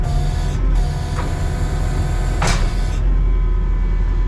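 HWP-150 wood processor running on hydraulic oil as its grabber arm lifts, a loud steady mechanical hum close by with a brief rushing surge partway through.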